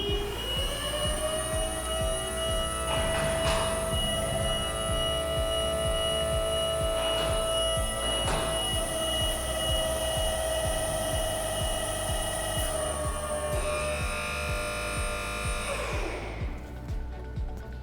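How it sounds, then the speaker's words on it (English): A Monitor 2210 EVO spider lift auto-levelling, with a steady, loud electric-hydraulic motor hum and whine holding an even drone for most of its length, a few faint clunks, then winding down near the end. "we can level the machine up without needing to keep an eye on the bubble"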